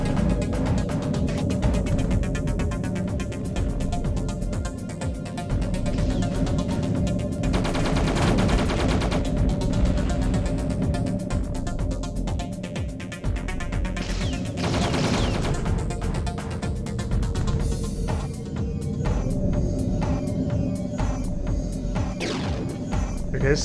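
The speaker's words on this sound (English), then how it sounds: "I really like the hard-hitting nature of the Raptor's weapons." Raptor craft weapons in the G-Police 2 video game fire in long, hard-hitting bursts, loud and nearly continuous over a steady engine hum, with brief lulls between volleys.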